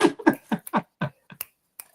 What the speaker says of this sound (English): The little finger snaps.